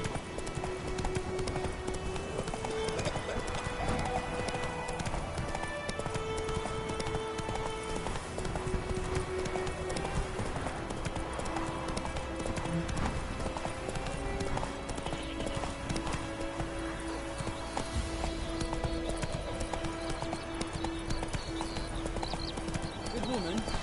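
Horse hooves clip-clopping steadily at a gallop with occasional whinnies in a PS4 video game, set against continuous background game music and ambient noise, with speech present.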